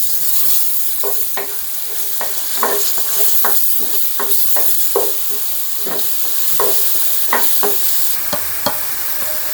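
Onion, ginger and garlic paste frying in a pan for cauliflower korma, a steady hiss of sizzling oil broken by repeated scraping strokes of a spoon stirring the paste.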